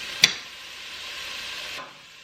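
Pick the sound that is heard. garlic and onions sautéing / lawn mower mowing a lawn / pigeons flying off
garlic and onions sautéing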